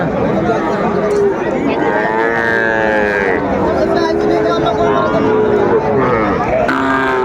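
Several cattle, young bulls and heifer calves, moo repeatedly at a livestock market in Ambari, Dinajpur, long drawn-out lows overlapping amid a busy crowd murmur, with people talking in the background.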